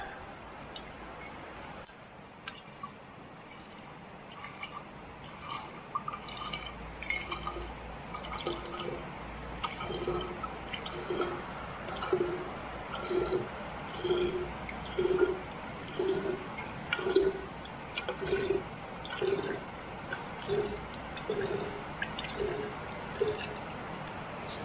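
Gasoline drawn from a Honda Elite 150 scooter tank through a hose with a squeeze bulb, a steady rhythm of soft squelching squeezes and gurgling liquid trickles, faint and close, repeating about once a second.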